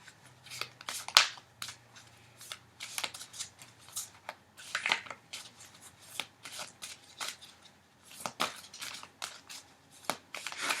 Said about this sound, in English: I must not be shuffling right or something, because the right card is not coming up.